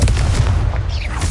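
A loud, close, booming blast from the Confringo fire spell in the video game Hogwarts Legacy, a dense rumbling explosion that fills the whole moment with heavy low-end force.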